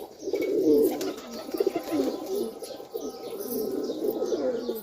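Madrasi pigeons kept in a home loft coo in repeated throaty bursts, several birds overlapping close by, with faint chirps and a steady background hum.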